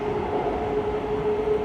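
A train pulls out of London St Pancras International on a service to Bedford, giving a steady, close rumble with a sustained tonal whine from the traction, constant in level throughout and with no voices.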